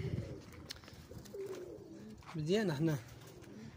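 Young pigeon chicks coo in a close, rising and falling warble that peaks near the middle, with a voice speaking over the start.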